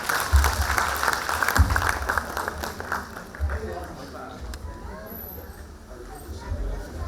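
An audience applauds a senior singer after his devotional song at a Karnataka Press Club award ceremony in Kalagrama, Bengaluru, the clapping loudest at first and then thinning beneath someone speaking.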